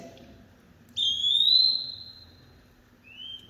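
An eastern wood pewee in wooded habitat gives a clear, slurred whistled call, followed by a shorter, softer whistle, alone over faint low background noise.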